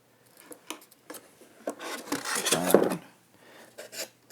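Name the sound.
cutting a small hole in foam board for wire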